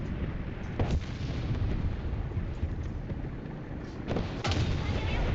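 Tank cannon fire in a tank video game, where an Fv4030/3 Shir 2 is in battle, with a couple of deep booming shots standing out over continuous loud rumbling engine and battle noise.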